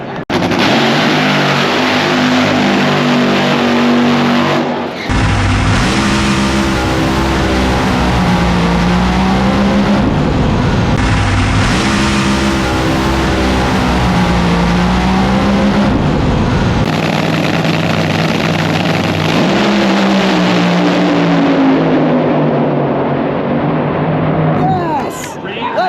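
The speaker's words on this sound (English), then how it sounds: "That's my race car" A race car engine roars at full throttle down a drag strip run, loud and continuous with rising pitch through repeated gear changes, a voice talking over parts of it.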